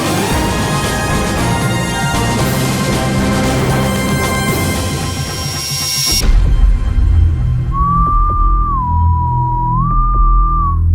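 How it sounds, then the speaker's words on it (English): A trailer teaser for Blade opens with dense dramatic music that cuts out abruptly, giving way to low rumbling and a lone eerie whistled melody that rises, dips and rises again near the end. "They released the 30-second whistle tease."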